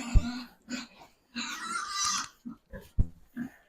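A pig on a farm gives a run of close, breathy grunts and snorts, short and irregular, with one longer, rougher squealing grunt in the middle and small gaps of quiet between the sounds.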